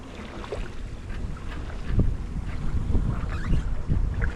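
A sailboat running downwind off Bruny Island, with a steady wash of water along the hull and gusting wind across the microphone, continuous and moderately loud.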